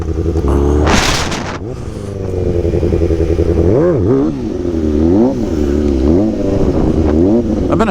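A stunt motorcycle set up for death spins idles and revs repeatedly, loud and close, with rising and falling engine pitch, a brief clattering scrape near the start and no talking.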